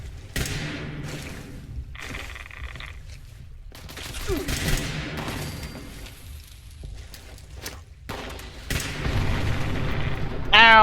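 A grenade goes off in a video game set in Skyline Valley, a heavy boom among dense rumbling blasts and fusillade-like bursts, with a voice talking briefly over the din.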